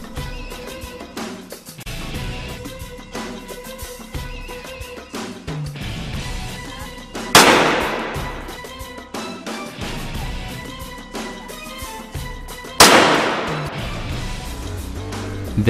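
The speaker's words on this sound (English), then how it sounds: "We use 9mm Uzi to fire 2 shots on the bulletproof helmet." Two sharp, loud 9mm Uzi shots ring out against a V-grade bulletproof ballistic helmet at a firing range, each a distinct crack with a short ringing decay, spaced several seconds apart amid steady background noise.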